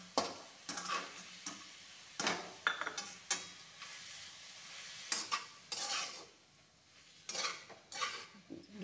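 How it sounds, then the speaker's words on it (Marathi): Amaranth greens being stirred and sautéed with crushed peanuts in a pan, heard as intermittent scraping and clinking of a spoon against the pan, fairly quiet and irregular, with no talking. "गॅस फुल करून शेंगदाण्याचं कूट टाकल्यास आपली भाजी थोडी परतून देते"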